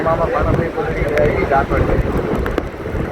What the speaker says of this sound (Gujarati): ખૂબ જ અતિશય પવન છે